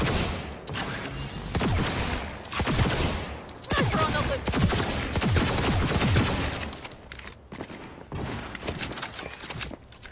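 Sustained gunfire in Cyberpunk 2077, with near-continuous automatic volleys and sharp crackling shots piling up loud and close, easing briefly before resuming in choppier bursts.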